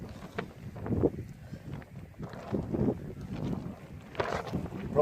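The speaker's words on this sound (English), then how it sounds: "that wind's picking up really bad" Strong wind gusts outdoors during wood carving, rumbling and buffeting the microphone in uneven bursts that swell and fade every second or so.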